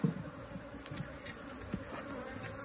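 Bees buzz from a hive rescued from inside a tree trunk, a close, continuous droning hum with small swells and a few soft knocks, no voices.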